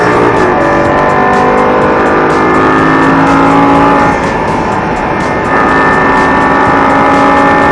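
A Lamborghini engine pulls hard on a racetrack, a loud, steady roar of rising harmonics that carries on for the whole stretch, with a brief dip in intensity midway before surging again.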